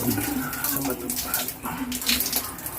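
Water sprays unevenly from a faulty shower head that leaks out around its sides, a continuous hissing gush that swells and dips slightly.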